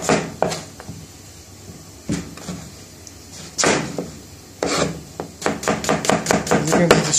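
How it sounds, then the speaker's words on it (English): Onions being chopped into small pieces for onion bhajis: close knife strikes on a board, scattered at first, then a quickening run of rapid chops toward the end, with no talk. "the chef is chopping onions into small pieces."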